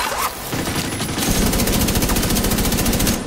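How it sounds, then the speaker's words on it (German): Suppressive machine gun fire in The Division 2 comes as a loud, rapid, continuous burst of shots. It starts after a brief pause and keeps up a steady rattling rhythm to the end. "da gebe ich euch ein bisschen Sperrfeuer"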